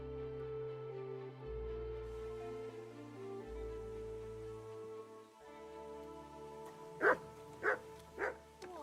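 The dog Mutt in Kingdom Come Deliverance 2 gives three short barks, close and fairly clear, spaced about half a second apart after a stretch of sustained musical tones.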